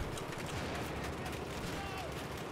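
Distant gunfire and explosions rumble through a Battlefield 4 multiplayer match, a steady crackle of shots and low blasts at moderate volume, with a voice talking over it.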